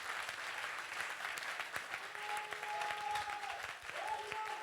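A church congregation applauds the Lord with steady, dense clapping spread across the room, joined by scattered cheers and a few sustained sung or shouted tones.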